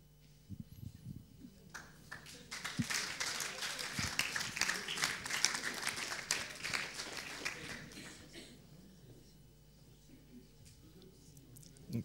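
An audience claps for presenters at a French research talk event on the brain and cognition, the applause swelling into a dense patter, then thinning out, with a voice speaking briefly over it.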